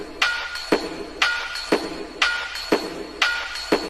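Drum kit built from Clash of Clans game sound effects, with reverb, compression and trimmed highs and lows for a vintage feel, plays a steady looping beat of sharp hits, about eight strikes in four seconds, loud and alone.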